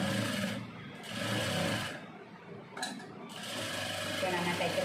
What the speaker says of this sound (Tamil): இப்போ நம்ம தைக்கிற மாதிரி தைங்க.